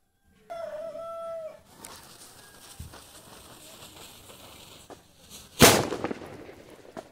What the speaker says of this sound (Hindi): इस सबसे छोटे से सुतली बम को बोल सकते हैं छोटा पटाखा बड़ा धमाका